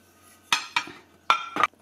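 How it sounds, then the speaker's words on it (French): A metal saucepan goes into a compact Silvercrest countertop dishwasher, producing four short, close clanks and clinks of cookware against the rack in a quiet room. "Je vais rajouter la casserole du midi."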